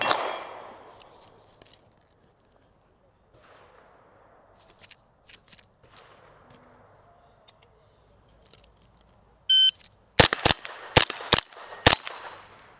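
A rimfire rifle at a Steel Challenge stage follows a quiet lead-in and a short electronic beep with about five sharp, quick shots ringing off steel targets, each crack clear and close.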